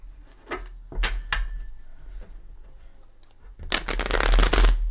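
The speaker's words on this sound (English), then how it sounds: "let's give this a couple shuffles" Tarot cards are shuffled by hand: a few crisp riffling bursts, then a longer, louder flurry of shuffling close up.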